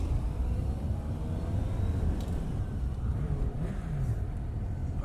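A 2018 Suzuki GSX-S750 motorcycle on the move, its engine a steady low rumble mixed with wind noise, with a few slight rises in pitch as the throttle changes.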